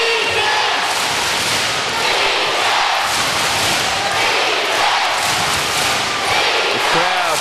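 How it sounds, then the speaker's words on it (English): Arena crowd at a basketball grand final between Adelaide 36ers and Perth Wildcats roars continuously, a dense wash of cheering and shouting that swells and stays loud throughout. "The crowd trying to keep their team on top of this game"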